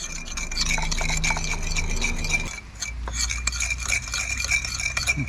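Pastry brush spreading olive oil over a fish being prepared for the grill, a steady soft scraping and rubbing that carries on continuously and up close, with no talk.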